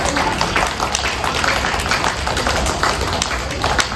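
An audience at the Chacha Town Kokura venue claps for a singer, a broad, even wash of many hands that holds steady and fairly loud from start to finish.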